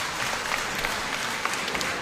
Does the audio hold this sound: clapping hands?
yes